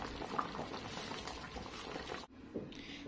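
Small chickens simmering in a pot of soup with onion, black pepper, cardamom and spices, a steady bubbling boil that drops out abruptly near the end, then resumes faintly.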